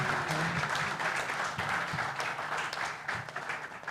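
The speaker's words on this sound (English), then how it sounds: "can you give my panel a round of applause again?" An audience applauds a panel of speakers at a tax reform discussion in Nigeria, a moderate, steady patter of clapping sustained throughout without talk.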